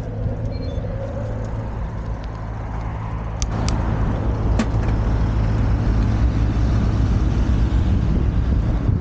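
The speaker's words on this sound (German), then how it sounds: "Aber dieser ganze Verkehr, der macht einen kaputt." Road traffic rumbles past in Duisburg Hochfeld during a bike ride, a continuous low roar that swells slightly louder, with a few sharp clicks and rattles.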